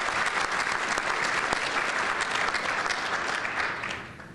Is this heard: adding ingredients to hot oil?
no